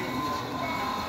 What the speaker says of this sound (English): here comes another train. This is our CP Atlantic Limited with the E8 locomotive.